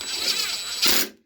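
A cordless impact wrench with a socket tightens bolts on a free lawnmower in two quick close bursts of buzzing rattle, the second one short and cutting off sharply.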